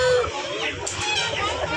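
Chickens cluck and murmur in a close, busy cluster at a poultry market, heavy meat birds, with someone talking over the birds throughout.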